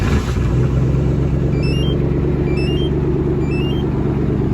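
A 1994 Lincoln Town Car Cartier edition starts by remote start and settles into a steady, close, low engine idle with a constant rumble; no voices.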